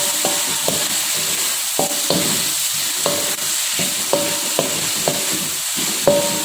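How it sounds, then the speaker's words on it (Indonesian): Tuna being stirred with spice paste in a sizzling pan for a spicy stir-fry with cassava leaves, a utensil scraping in steady repeated strokes over a continuous close frying hiss, with no voices. "Lalu kita langsung aduk dengan ikan tongkolnya."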